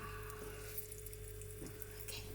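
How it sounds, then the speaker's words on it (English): Shrimp patties fry gently in a pan with a soft, continuous sizzling hiss. The sound is faint and steady, close by, with no break. "It's gentle and sizzling."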